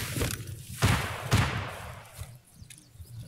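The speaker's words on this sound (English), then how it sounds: "That is gunshots right up there on the hill." Several distant gunshots crack out from a hill in Escape from Tarkov, a few sharp broadband bursts in quick succession over a low rumbling game ambience, fading after the second shot.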